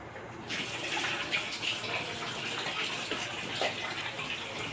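Water runs steadily from a tap during a bath, a continuous close hiss and splash with small irregular splashes, starting after a short quiet moment. No one speaks.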